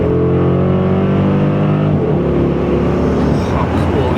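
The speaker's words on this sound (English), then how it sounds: "it's about the closest thing to a NASCAR V8 you'll hear in any passenger car" A Dodge Charger SRT8 V8 revs hard and close, a loud, steady, deep engine roar with rising harmonics that briefly dips and climbs again.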